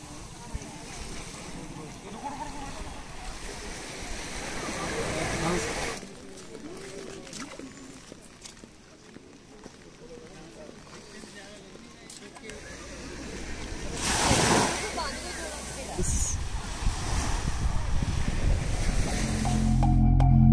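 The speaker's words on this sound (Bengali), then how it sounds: "এই যে চলে আসলো সমুদ্র।" Sea waves wash onto a beach at Neil Island in the Andaman Islands, a broad surging rush that rises and falls, with wind buffeting the microphone and people talking at times.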